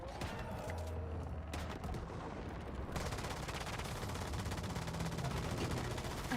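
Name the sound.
shotgun shots in the video game Once Human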